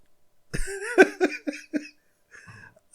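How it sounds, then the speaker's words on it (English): A single close cough bursts out and breaks into a few rapid, choppy follow-up coughs, then a faint throat noise trails off into near silence. "Even the cough, I may edit the cough out."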